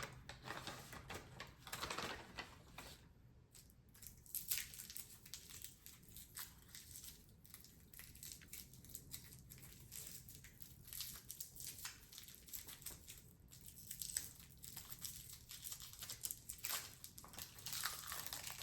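Hard candy wrapper being unwrapped close to a whisper microphone, with crisp crinkling and crackling bursts in irregular clusters, quiet overall and with no speech.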